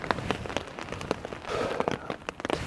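Rain falls on a tarp during stormy-weather camping on the west coast of Scotland, a close, dense patter of drops striking the sheet, continuous with louder, sharper hits scattered throughout.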